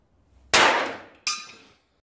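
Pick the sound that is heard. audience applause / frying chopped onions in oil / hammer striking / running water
hammer striking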